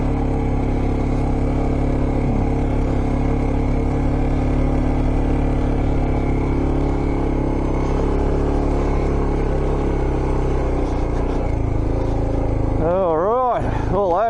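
A motorbike is ridden through sand in Wyperfeld National Park, its engine held in first gear and revving hard in a loud, sustained drone that swells and wavers, with a few rising whines near the end.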